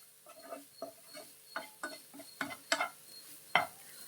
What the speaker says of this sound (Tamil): இந்த மசாலா காய்கறி எல்லாம் ஒன்றா சேர்த்து நல்லா மசாலா படுற மாதிரி ஒரு தடவை கலந்து விட்டுருங்க